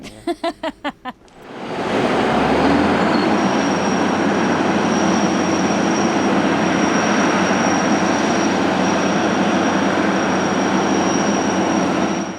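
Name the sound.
old tractor engine running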